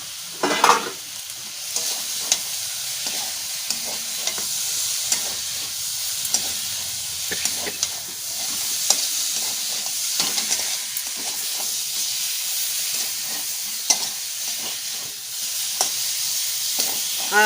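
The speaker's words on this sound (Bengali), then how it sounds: "তা আমি এর মধ্যে আবার এই বেগুনগুলো দিয়ে একটু নেড়ে তারপরে জল" Eggplant pieces are stirred in hot oil in a pan for a home-cooked Bengali begun bahar, with a steady sizzle and frequent scraping, clinking stirs throughout, no talk.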